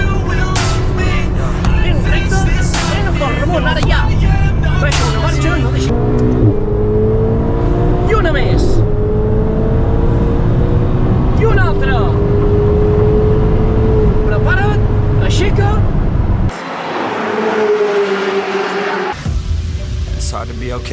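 A Ferrari engine roars loudly and steadily, rising and falling in pitch as the car accelerates on a driving course in Spain. An instructor's voice talks over the engine, and the sound shifts abruptly near the end.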